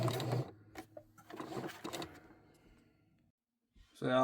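A sewing machine runs in short bursts, zigzag stitching back and forth to join scrunchie elastic. Close, loud whirring stops and starts several times, with a quiet gap before a final burst.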